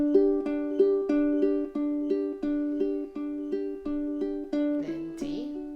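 Ukulele strumming a steady, even chord progression from Chasing Cars, about two strums per second, close and clear, ending with a brief scrape and muted strum.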